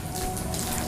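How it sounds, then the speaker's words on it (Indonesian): Water pouring from a hose or can onto flowers outside a house, a short steady splashing wash close by with no talk. "saya siram bunganya ya, Bu."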